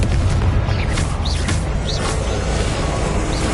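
A loud, sustained explosive rumble from a Confringo blast spell in a wizarding video game fills the moment, dense and booming with faint whooshing sweeps layered over it.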